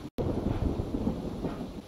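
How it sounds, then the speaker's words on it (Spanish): Heavy rain with a deep rolling rumble of thunder in the video game S.T.A.L.K.E.R. Anomaly, loud and low, continuous after a brief silent gap at the very start. "Siento que está re alta la lluvia"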